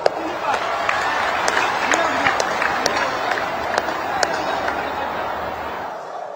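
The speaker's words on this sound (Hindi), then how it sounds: "हो जाए ताली आज आपके नाम पर।" A large outdoor crowd at a political rally in Assam applauds steadily, a dense, sustained wash of clapping with scattered sharper claps and murmurs of chatter underneath.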